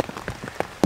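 Heavy rain drumming on the canvas of a hot tent, a Polish lavvu with a Winnerwell Nomad View stove, heard as a dense close patter of drops over a brief moment.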